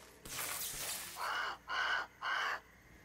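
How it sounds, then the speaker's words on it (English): A crow caws in the video game Grounded, three loud, evenly spaced harsh calls close by, following a stretch of hissing ambient noise. "That's the crow."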